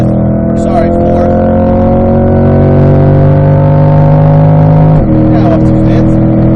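A C8 Corvette engine drones at high revs under full throttle on a race track, its pitch climbing steadily, dropping briefly at a gear change, then rising again.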